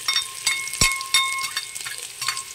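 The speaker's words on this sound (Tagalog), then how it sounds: "lagyan natin yung mantika, umuusok na. Lagyan natin yung sibuyas, bawang." Chopped onion and garlic hit smoking-hot cooking oil in a kitchen pan, giving a steady close sizzle broken by a few sharp utensil knocks and scrapes against the pan, with no talking.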